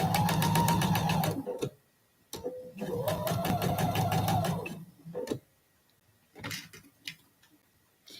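A sewing machine stitches a quilt block seam in two steady runs with a short stop between, followed by a few light clicks and quieter handling sounds.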